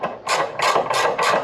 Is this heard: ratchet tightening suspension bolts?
yes